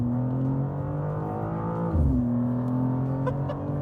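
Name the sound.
BMW M2 automatic accelerating hard from standstill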